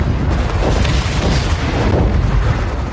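A grenade blast in the sci-fi shooter Second Extinction booms as a loud, rumbling explosion that rolls on for a few seconds, with no talk over it.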